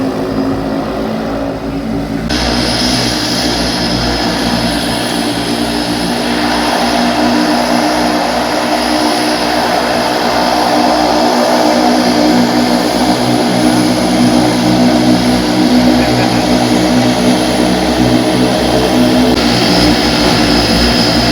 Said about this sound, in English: Ka company Spice Jet kan peniat ya kani ka Liengsuin Duriaw ka balawanra da ka de Havilland aircraft